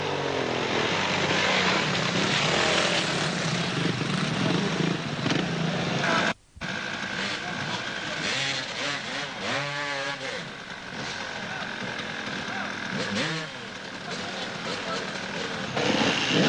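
Vintage enduro motorcycles ride a muddy course at the 1994 Bretzel Vert, their engines revving and whining in rising and falling sweeps, loud and close, with a brief cut midway and a narrator talking over them.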